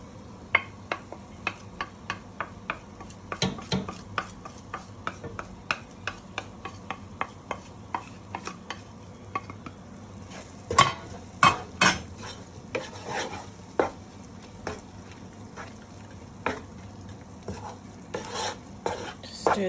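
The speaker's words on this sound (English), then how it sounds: "Stir the spices all in properly." Spoon scrapes and taps against a pan as spice mix is stirred into chicken curry, a run of sharp, irregular clinks and scrapes over a low simmering hiss, close and fairly busy, with no talking.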